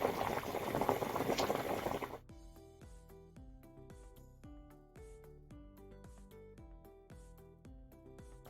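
Fava beans simmer in a covered pot, with a rush of steam at first, then a steady rhythmic bubbling and rattling of the lid, close and moderately quiet.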